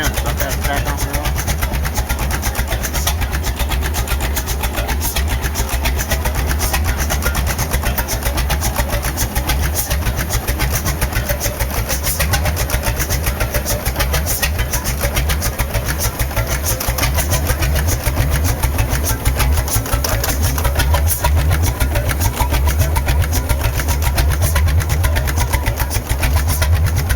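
Antique drilling rig engine running steadily at about 360 RPM, a loud, close, even rhythmic chugging that continues unbroken throughout, with someone talking over it.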